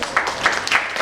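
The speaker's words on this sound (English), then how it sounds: "I think we all should clap for us." Brief burst of clapping from a conference audience in a hall, a few uneven claps rising and falling over about a second.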